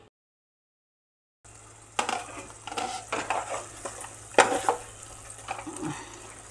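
A tomato masala base for palak paneer, with a little water added, simmering in a pan and being stirred, giving soft bubbling sizzle and scraping clinks of a spoon after an initial silence.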